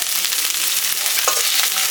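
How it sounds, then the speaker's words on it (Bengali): Onion and garlic paste sizzles and fries in a pan while being stirred, a steady broadband crackle with occasional scraping strokes, close and continuous, no talking. "এটা কষিয়ে নিতে হবে ভালোভাবে।"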